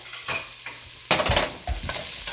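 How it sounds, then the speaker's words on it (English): Chopped ginger is stirred in a hot pan for a bean soup, with a soft sizzle and a few scraping stirs of a utensil, close and quiet, no talking. "and just mix it a little bit so it doesn't catch. It doesn't start burning."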